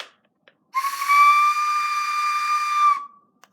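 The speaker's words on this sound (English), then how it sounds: "This is a whistle from Russia that my mom got." A whistle from Russia is blown once, a clear sustained tone with bright overtones and a breathy hiss, lasting about two seconds, close and loud, then stopping abruptly with faint clicks around it.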